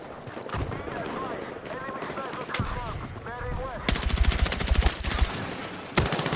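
Rapid bursts of automatic gunfire in a shooter video game, loud and close, rattling in quick strings after a stretch where someone talks over quieter game sounds.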